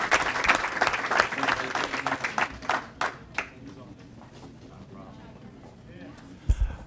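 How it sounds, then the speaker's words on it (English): An audience at a school board public hearing gives a round of applause that is strong at first, thins into a few scattered claps and fades out, followed by quiet room noise and a brief thump. "if we can give them one more round of applause"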